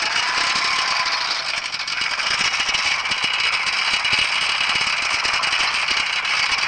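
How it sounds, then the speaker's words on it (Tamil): A tractor engine runs with a dense, loud mechanical rattle and clatter as the clutch is held and a gear is put in. It drones on steadily and close with no voices. "அப்படியே கிளச்சை பிடிச்சிக்கிட்டு கியர் வந்து போட்டுருவோம்."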